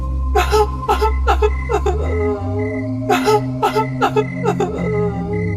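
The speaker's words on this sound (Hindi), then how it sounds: "तभी फिर से एक अजीब सी रोने की आवाज सुनाई देती है।" A strange, eerie crying sound effect in a Hindi horror story, heard as a series of close, loud sobbing and whimpering bursts in uneven clusters, standing alone with no talk.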